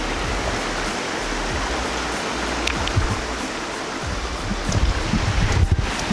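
Steady, dense hiss of heavy rain pouring onto a creek during a thunderstorm, continuous and enveloping, with a few louder splashes and thumps near the end and no talking.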